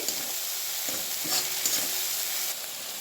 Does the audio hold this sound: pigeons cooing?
no